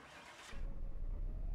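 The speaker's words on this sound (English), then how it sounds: "Can we start this car?" A car engine in a mechanic simulator game cranks with a brief whirring starter noise, then catches and settles into a low, steady idle rumble.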